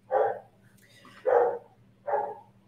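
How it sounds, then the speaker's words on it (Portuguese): A dog barking nearby, three loud, evenly spaced woofs about a second apart, with a faint low hum in the quiet gaps between them. "Barulho do cachorro latindo"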